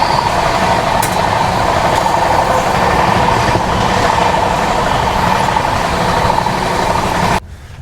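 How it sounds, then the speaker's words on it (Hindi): Sairang Rajdhani Express train running at about 130 km/h alongside a freight train on the dedicated freight corridor: a loud, steady, broadband rumble and roar that holds unbroken before cutting away abruptly near the end. "तो भाई साहब अभी देखो लगभग 130 kmph की स्पीड अपनी ट्रेन मेंटेन किए हुए है और पैरेलल चल रहा है"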